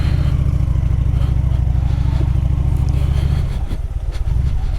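A motorcycle engine idles loud and close with a steady throbbing rumble, then dips slightly and picks back up near the end, running smoother after a coil replacement, with no one talking over it.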